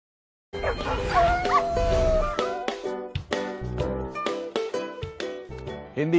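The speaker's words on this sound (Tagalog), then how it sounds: "Aso." A street dog (aspin) working as a village security patrol dog gives a whining yelp followed by a run of short, sharp barks and yips, close and fairly loud, with no talking.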